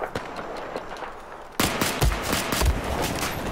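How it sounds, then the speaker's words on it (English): Battlefield 4 DMR sniper rifle gunfire, a sharp sudden crack after a quieter stretch followed by several more loud shots and echoing reports close by. "I just got DMR'd by a sniper."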